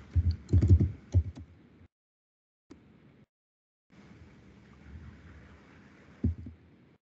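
Computer keyboard typing a drafting command: a quick cluster of clicky keystrokes, then a few isolated taps, a pause and one final sharp key press, close and quiet with no talking.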